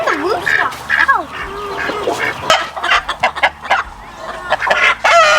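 Chickens, a rooster and ducks on a farm during chores cluck, squawk and quack close by in quick, overlapping bursts, with a person speaking briefly among them.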